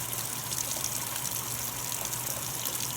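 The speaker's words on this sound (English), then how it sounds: "and pour in a capful." Liquid detergent gushes steadily from a cap into a Kenmore washing machine, a continuous close pouring rush that runs for a few seconds without speech.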